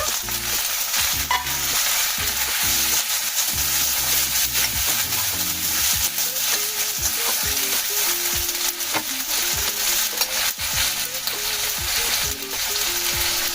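Ginger paste and chopped tomatoes frying in a pan for a Bengali rui fish curry, a loud continuous sizzle with stirring scrapes and crackles throughout.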